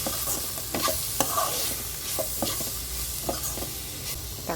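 Onion and tomato with chili and turmeric powder stirred in a pan, a soft sizzle with repeated scraping strokes of a spoon, close and steady, no talking.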